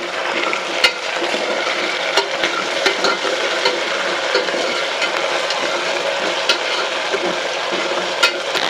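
Ginger garlic paste sizzles in a hot frying pan as a spoon stirs it, steady frying hiss with sharp scraping clicks at irregular intervals, close by.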